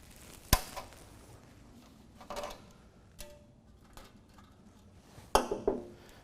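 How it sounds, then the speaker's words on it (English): Plastic zip tie snipped while fitting a truck lowering kit: a sharp click near the start and another crisp snap near the end, with small tool rattles and handling noises in between. "we're going to go ahead and cut that zip tie"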